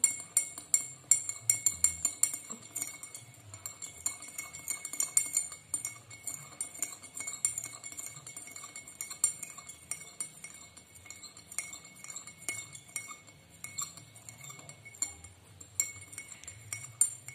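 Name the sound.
spoon stirring sugar in a glass of hot water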